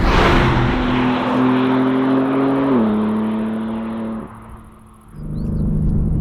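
A BMW M3 Competition G80 heard from outside revs its exhaust in a loud, deep drone that holds, steps down, dips briefly, then returns; no speech.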